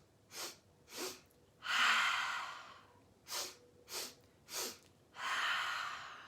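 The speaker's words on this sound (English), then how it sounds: "3 sniffs in through your nose," A person doing a breathing exercise takes three quick sniffs in through the nose, then one long exhale out through the mouth, repeated twice in a near, clear rhythm of short bursts followed by a drawn-out breath.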